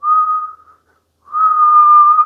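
A person whistles a clear, steady high tone, holds it briefly, falls silent for about half a second, then whistles a second, longer sustained note at the same pitch.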